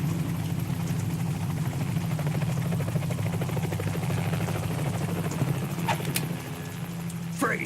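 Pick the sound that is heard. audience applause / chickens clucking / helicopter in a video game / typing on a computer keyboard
helicopter in a video game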